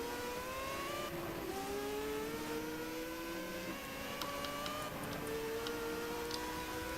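Several race cars in a racing video game pull away from the start line, engines rising in pitch together as they accelerate, a dense layered whine with gear shifts and faint ticking, no talk.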